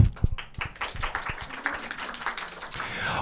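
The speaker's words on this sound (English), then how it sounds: "Let's give her a round of applause." A short burst of scattered clapping from a small audience, uneven and fading slightly, with no voices over it.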